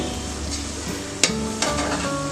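Onions frying in a pan for khichuri, a steady close sizzle with a couple of sharp knocks from stirring partway through.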